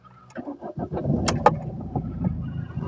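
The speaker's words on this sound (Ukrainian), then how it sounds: "Працює добре двигун, взагалі питань немає, заводиться з полпінка" A Ford Fusion car engine cranks and catches, then settles into a steady, rumbling idle, close and fairly loud.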